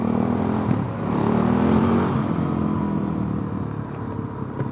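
A Suzuki DRZ400 motorcycle fitted with a slip-on exhaust accelerates hard, its loud, raspy single-cylinder engine note rising and holding strong for several seconds, close by, with no talking.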